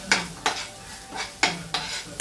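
A lump of asafoetida goes into a spiced masala frying in hot oil; a spatula scrapes the pan in six sharp, evenly spaced strokes over a soft sizzle, close up and without voices.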